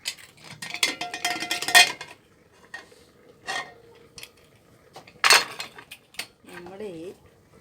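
A metal cooking pot holding coconut-slice curry is opened. Loud clanking and scraping of lid and utensils come in bursts, with quiet pauses between them and a voice speaking near the end.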